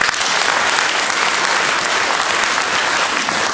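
Steady, loud applause from a church congregation gathered in a hotel hall, a thick continuous roar of many clapping hands without a break.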